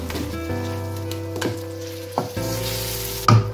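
Dried fish (shutki) and fish frying together in a pan for a bean and eggplant dish, a constant close sizzle with occasional stirring knocks and a brief louder scrape near the end.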